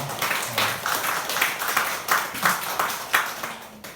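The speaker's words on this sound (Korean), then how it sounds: "우리 강사님을 여러분들 모시겠습니다. 박수로 앞에 모시겠습니다." An audience at a lecture hall event claps steadily for about four seconds to welcome a speaker, giving dense, even applause with no voices over it.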